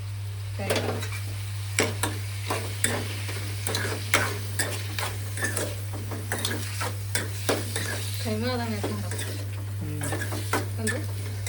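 Chicken frying in oil in a pan while being stirred, with repeated scraping strokes of a utensil over a soft sizzle and a steady low hum in the background.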